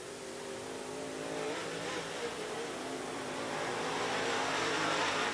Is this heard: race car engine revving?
yes